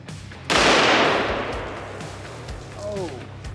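A single loud hand cannon gunshot booms against a cast iron Peerless 2300 transmission outdoors by a creek, followed by a long rolling echo and a faint ricochet whine.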